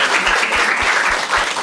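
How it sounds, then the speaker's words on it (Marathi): A stand-up comedy crowd applauds in a broad, steady wash of clapping that lasts the whole stretch, loud and close, with no talk over it. "टाळ्या वाजाय दोघांसाठी एकदम."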